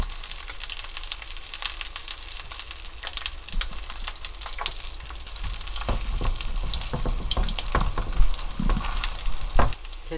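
Flounder pan-fries in olive oil with a constant close sizzle and crackle, punctuated by scraping and clattering as the fish is turned in the pan; no talking.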